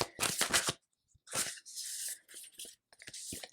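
Astrology cards being shuffled close by in several quick riffling bursts separated by short pauses.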